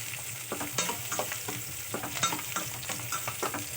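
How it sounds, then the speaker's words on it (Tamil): Onion, curry leaves and garlic sautéing in a pan after mustard seeds have popped, a soft continuous sizzle broken by quick rhythmic spatula scrapes and stirs, close and without speech. "நல்லா கடுகு பொரிஞ்சதுக்கப்புறம் வெங்காயம், கருவேப்பிலை, பூண்டு நல்லா வதக்கி விட்டுக்கோங்க."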